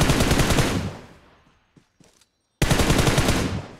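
Automatic gunfire in the BGMI battle royale video game: a loud rapid burst that fades out, a few brief faint shots, then a second dense burst after a short silence.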